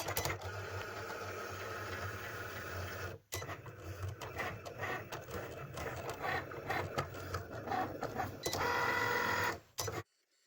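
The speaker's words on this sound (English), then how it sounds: "you can load the mat into the machine and then click start" A Cricut cutting machine runs steadily as it cuts iron-on vinyl on a mat, a continuous mechanical whir with clicking carriage movements, a brief pause after about three seconds, then a louder burst of motor noise near the end before it stops.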